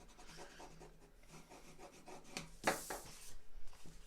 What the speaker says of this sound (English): just get my bone folder and I'm just rubbing over the back of it to almost erase that score line